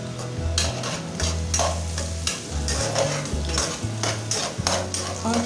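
Carrots added to cooked eggs in a pan for a jungli pulao, frying with a close, steady sizzle and regular scraping stirs of a utensil against the pan, with a low hum underneath and no talking.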